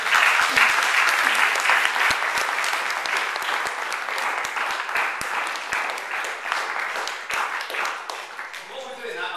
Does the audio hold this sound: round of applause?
yes